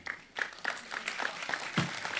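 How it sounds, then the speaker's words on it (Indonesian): Faint, sparse applause from a small village audience for two performers, with individual claps falling in a loose, steady rhythm at a distance. "Sekarang tepuk tangan untuk Imam sama Doni."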